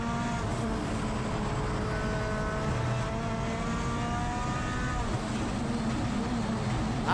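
A four-wheel drive time attack race car lapping a circuit at a racing event, a steady loud engine drone with rising harmonic tones as it pulls through the gears, heard at a distance without voices.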